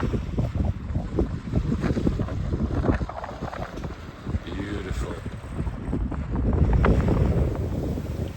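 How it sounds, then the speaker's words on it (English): Yachts maneuvering at the San Cristobal anchorage in Las Perlas near Panama at the start of a World ARC rally leg, heard as steady wind and water noise with engine rumble and faint tonal hum throughout. "These are the yachts maneuvering at the start of the first leg of the World Arc"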